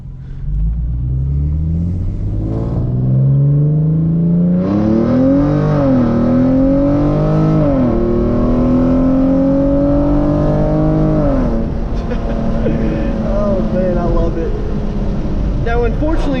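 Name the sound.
Genesis Coupe with Solo Performance exhaust accelerating in first gear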